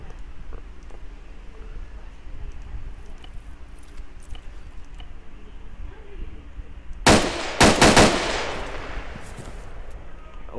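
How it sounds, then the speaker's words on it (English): Machine gun fire in the Arma 3 military shooter with a mod, a short loud burst of rapid shots near the end after quieter background ambience. "And here is the MG."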